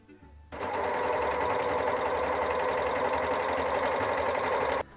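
An overlocker sewing machine stitches along folded fabric, starting abruptly after a quiet moment and running as a steady, fast, mechanical whir for about four seconds before stopping suddenly, close and loud.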